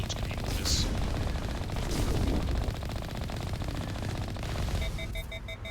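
Turret gunfire in Mass Effect hammers away in dense, continuous bursts. Weapons fire layers over rumbling explosions, and a voice speaks partway through the loud, unbroken barrage.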